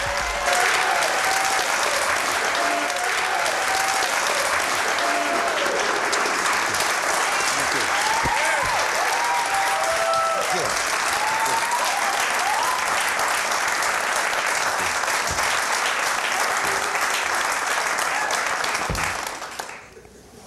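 A studio audience applauds Quincy Jones as he is welcomed onstage, a dense and steady wash of clapping with a few faint cheers, holding strong for about twenty seconds before dropping off at the end.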